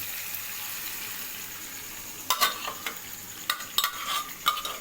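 Boiled peas go into frying ghugni spices in a pan at home, a steady low sizzle broken by several sharp scraping stirs and clanks of a spoon over the second half.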